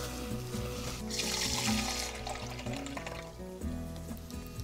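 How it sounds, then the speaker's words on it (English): Half a cup of water is poured into a simmering tomato chili sauce, a steady splashing hiss that builds midway, partly masked by continuous background music. "About a half a cup of water."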